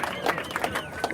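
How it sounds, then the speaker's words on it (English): A crowd gathered to meet startup founders gives a round of applause, a busy mix of clapping, cheering and overlapping voices heard up close. "Yeah, round of applause"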